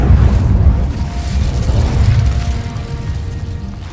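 Incendio fire spell in the video game Hogwarts Legacy, a loud, deep rumbling whoosh of flame that surges early and slowly fades over a few seconds, with no voices.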